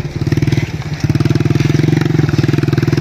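Light, low-slung motorcycle running on a slippery, rain-soaked road, its engine chugging in a steady, rapid rhythm close by, with a brief dip near the start before resuming at a constant idle-like pulse.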